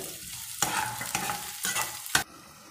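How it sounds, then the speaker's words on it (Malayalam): Chopped green chillies stir-fry in a hot pan, a soft sizzle broken by a few sharp stirring scrapes at an even pace, with no voices. "അതിലോട്ട് ഇനി കുറച്ച് പച്ചമുളക് അരിഞ്ഞു വെച്ചിരിക്കുന്ന പച്ചമുളക് ഇടുക മിക്സ് ചെയ്തിട്ട്"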